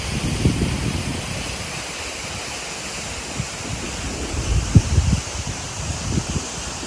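Yangpok waterfall in Cheonbuldong valley, Seoraksan, pours with a steady, close rushing wash of water, broken by occasional gusts of wind buffeting the microphone.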